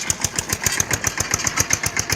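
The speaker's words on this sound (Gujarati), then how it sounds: "ટ્રેક્ટર હવે હાલું જાય છે" A tractor engine runs steadily on a village farm at harvest time, its rhythmic chugging pulses close and even throughout with a bright whining overtone and no talk.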